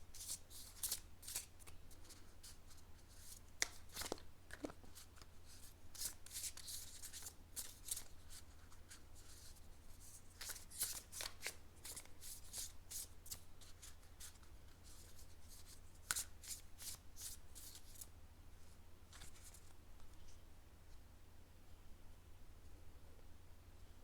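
Tarot cards shuffled by hand, repeated crisp riffling and flicking bursts in an irregular rhythm, close and faint over a low steady hum, with no talk.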